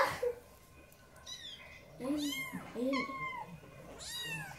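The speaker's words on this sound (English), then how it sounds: "Meow." A kitten lets out several close, rising-and-falling meows, one after another with short pauses between them over quiet room background.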